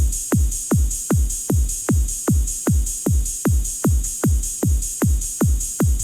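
Base-layer drum loop for a Shin Megami Tensei III style battle theme: a steady, evenly spaced run of about fifteen deep kick-like hits, punchy and loud over a constant bright noisy layer, with no voices.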